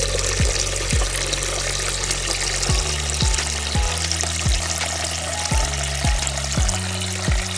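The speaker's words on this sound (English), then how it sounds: "Now I have taken 250 ml of milk and I am going to add it." Grated carrots cooking for gajar ka halwa as milk goes into the pan: a continuous bubbling sizzle with a run of regular low thumps from stirring, no voices.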